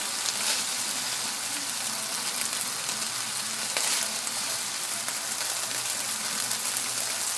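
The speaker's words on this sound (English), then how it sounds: "I will be adding in my veggies." Vegetables frying over high heat in a pan for bistec ranchero, a dense, steady sizzle and crackle that stays loud and close throughout with no voices.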